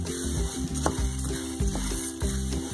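Coriander seeds dry-roasting in a pan for kulambu chili powder, a steady crackle with a soft rhythmic scraping of stirring running throughout, close and continuous.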